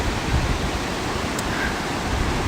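Ocean surf washes onto a beach at sunrise as a steady, dense hiss of breaking water, continuous and fairly loud, with no voices.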